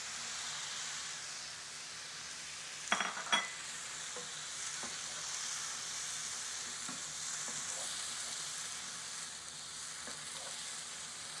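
Quinoa cooking in a pan with the juice and zest of two oranges, a soft continuous sizzle and hiss with a couple of brief clinks near the start.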